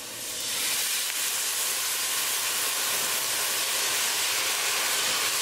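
Spices frying with tadka in a hot pan for beef rice, giving a steady, bright sizzling hiss that swells in over the first half second and holds close and even, with no talk.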